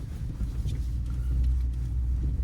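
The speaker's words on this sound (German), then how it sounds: "jetzt fährt man hier über Stock und Stein und der Volvo fährt halt einfach so mit" A Volvo 240 drives over rough, rocky ground, giving a low, steady rumble with faint knocks and jolts from the uneven surface.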